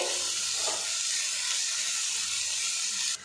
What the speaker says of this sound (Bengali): ফোড়নটা রেডি হয়ে গেছে, এর মধ্যে দিয়ে দেব কেটে রাখা আলু।